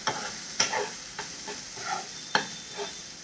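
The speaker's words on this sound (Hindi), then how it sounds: "इनको मिक्स कर लेते हैं अच्छे से, इनको भून लेते हैं इसी मसाले के साथ।" Pav bhaji masala being stirred and fried in a pan, with soft sizzling under several distinct scraping strokes of a spoon at an uneven pace, close and moderately loud.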